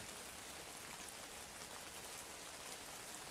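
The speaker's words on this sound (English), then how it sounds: "Because it is raining." Rain falls steadily at a wetland where red-crowned cranes rest in Yancheng, a dense even hiss of drops on surfaces throughout, with no talking.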